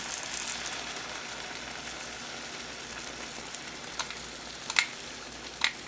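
Eggs beaten with milk cook in a pan for a frittata, a faint, steady soft sizzle with a few light clinks of a utensil toward the end.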